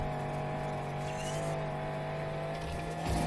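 A race car in the Need for Speed Heat video game holds a sustained, steady engine roar with faint tire noise, loud and continuous throughout with no pause.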